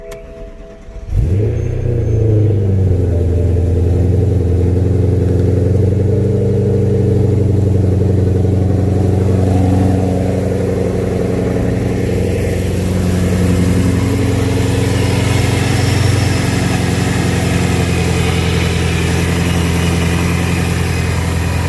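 Supercharged car engine cranks and catches after a cold start, then settles into a steady, loud idle with a strong low drone that holds for about twenty seconds, close by and alone.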